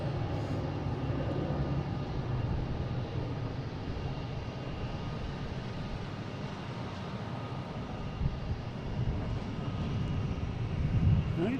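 A Boeing 737 airliner roars steadily at Boston Logan International Airport, a loud, continuous broadband jet rumble that holds throughout with no talking.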